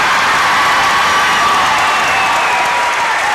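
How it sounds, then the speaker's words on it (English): Southwood fans cheering and applauding at a high school sectional volleyball match in a gym, a loud, steady wash of crowd noise with shouts and whoops running throughout. "And the Southwood crowd getting into it."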